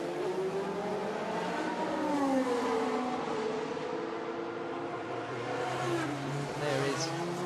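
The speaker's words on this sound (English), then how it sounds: "James Hunt McLaren's heading back out onto the circuit now" A James Hunt McLaren racing car heads back out onto a street circuit in Baku, its engine note rising and sweeping steadily through the whole stretch beneath a commentator's voice and crowd ambience.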